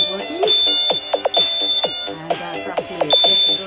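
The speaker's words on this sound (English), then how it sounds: "this is the smoke alarm that needs to be serviced" A smoke alarm being tested for servicing sounds a steady high electronic tone through most of the stretch, with brief breaks, while a person talks loudly over it.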